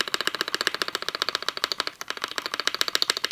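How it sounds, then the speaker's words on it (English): Spacebar on an Andromeda TKL gasket-mount keyboard with a metal plate, pressed in a fast, even run of crisp, close clacks with a brief pause midway. "Now, when you listen to the spacebar,"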